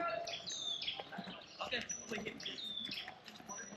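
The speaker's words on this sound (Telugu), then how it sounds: "ఈ బర్డ్ సౌండ్ ఇదంతా వింటుంటే ఎంతో పీస్‌ఫుల్‌గా ఉందని అనుకున్నాను" Birds calling near tunnels in Vietnam, a busy mix of thin high chirps and whistles repeating over outdoor ambience, moderately close and fairly loud throughout.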